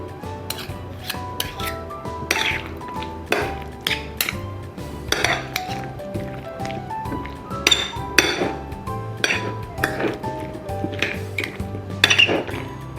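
A spoon clinks and scrapes against a dish again and again in quick, irregular strokes, close up and bright.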